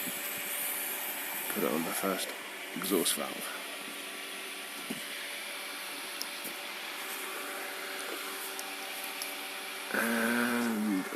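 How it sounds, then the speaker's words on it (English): A steady vacuum pump drones throughout with a constant hum during vacuum testing of cylinder heads, while someone speaks briefly near the start and end. "Let's turn the vacuum on."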